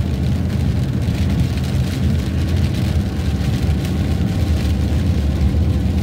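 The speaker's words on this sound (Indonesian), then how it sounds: "Lihat kita berada di atas dengan angin yang kencang, hujan terus teman-teman." Strong wind and steady rain at night in a forest on high ground, a dense, continuous close roar that stays loud throughout with no voices.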